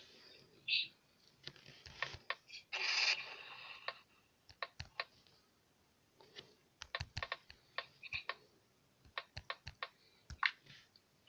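Keys clatter on a computer keyboard while a code is typed, in short quiet bursts of clicks with brief pauses, close by and alone.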